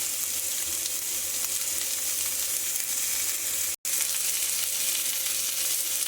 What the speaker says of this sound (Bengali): সবজিগুলো সব ভেজে নিলাম।